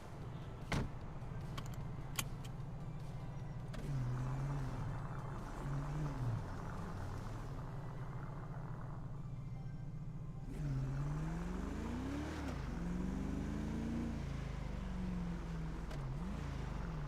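A car engine in a video game hums quietly at low speed, then rises and falls through gear-like revs in two driving stretches, with light clicks early on.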